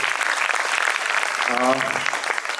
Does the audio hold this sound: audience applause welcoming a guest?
yes